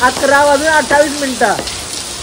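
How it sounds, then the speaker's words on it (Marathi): Heavy rain at night pattering steadily on a parked car, a continuous hiss under a voice talking over it. "फुल हार्ड पाऊस पडत आहे गाईज"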